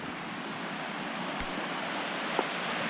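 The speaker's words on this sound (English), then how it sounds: "Really beautiful river." Upper Hat Creek, a trout river in Lassen National Forest, flows past a dispersed riverside campsite with a steady, close, rushing wash of water that holds even throughout, broken only by a couple of faint clicks.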